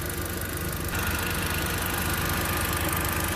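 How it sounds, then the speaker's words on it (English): An Audi TT MK1 engine fitted with a RamAir induction filter idling steadily, a loud, continuous low rumble with an even mechanical pulse and no voices. "we're fully installed and the engine has been idling for a few minutes now"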